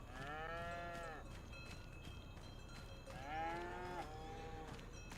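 Cows mooing at the animal dealer in Farming Simulator 25: two long, drawn-out moos separated by a pause, moderately near over steady ambient farm background.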